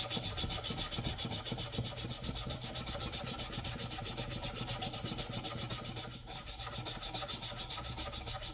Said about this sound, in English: I'm not going to bore you with this whole sanding process.